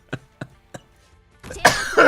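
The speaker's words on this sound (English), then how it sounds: "My allergies sometimes leave me coughing quite heavily." Three short, sharp allergy coughs spaced evenly, then a burst of heavier rough coughing and throat clearing, close and fairly loud, with no talk.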